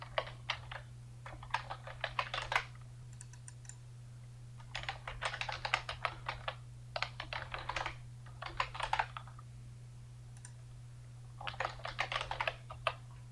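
A computer keyboard is typed in quick bursts while connection details are filled in. The clicks come in clusters of several seconds with short pauses, close and quiet over a steady low hum, with no talk.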